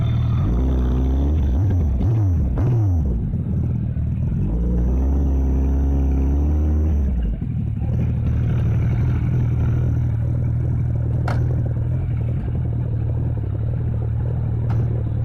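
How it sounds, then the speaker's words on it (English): A 2016 Suzuki Hayabusa GSX1300R ABS with a Scorpion exhaust accelerates hard. Its engine note sweeps up sharply through the gears in loud bursts, then settles into a steady rumbling cruise with wind noise. "I just wanted to show you guys how madly the bike is capable of accelerating."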